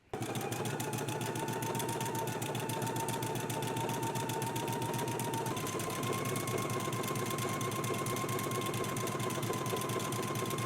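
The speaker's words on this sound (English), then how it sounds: "I'm going to go ahead and show you how I stitch 1 buttonhole on" A sewing machine stitches a buttonhole in a fast, steady rhythm without pause, its pitch stepping slightly higher partway through.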